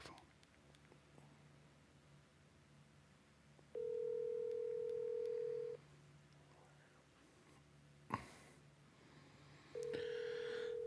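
A telephone on speakerphone dials out and rings, giving two long, steady tones separated by a sharp click against a quiet room background.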